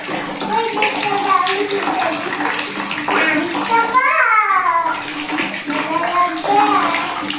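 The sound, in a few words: water running from an instant electric geyser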